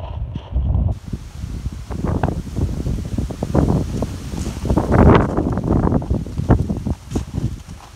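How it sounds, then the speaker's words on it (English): Steady, rumbling outdoor wind buffeting the microphone beside a Honda Civic 1.6 i-DTEC, with low gusty noise rising and falling throughout and no talking. "it's getting a bit windy today"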